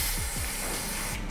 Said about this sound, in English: I'll pull the welder over here and get those.